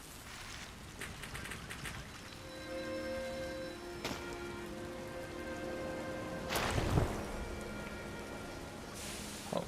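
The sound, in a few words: rain falling in Sky: Children of the Light video game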